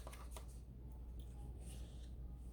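Card handling during a needs-and-wants sorting activity: a few quick papery shuffles and flicks near the start, then soft faint rustling over a low steady background hum, with no talking.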